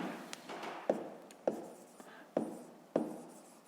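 Chalk or marker strokes on a board while writing a fifth-grade math exercise, faint scratchy writing punctuated by about five sharp taps at regular intervals, close and quiet.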